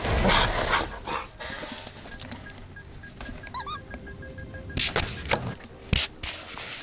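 A pet dog pants steadily nearby, with a few thin, high whimpers rising over the breathing.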